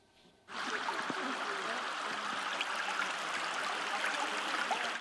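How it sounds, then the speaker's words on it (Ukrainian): Sewage spilling from a blocked collector runs as a foul stream down a residential street in Vatutine, Cherkasy region, a steady close rushing and gurgling wash of water that starts abruptly and continues without pause. "вулицями міста Ватутіна на Черкащині течуть каналізаційні нечистоти уже другий тиждень поспіль."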